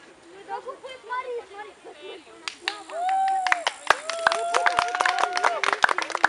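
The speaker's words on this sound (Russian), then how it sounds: "Аплодисменты." A small group of people claps by hand outdoors, giving sharp separate claps that turn into a loose round of applause. Voices talk before and through it, and a whistle-like tone sounds among the claps.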